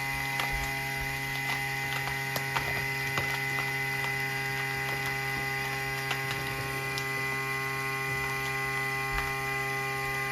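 Vacuum sealer pump drawing air out of a food bag, a steady droning motor hum running the whole time with faint mechanical ticks and crinkles over it, close and even.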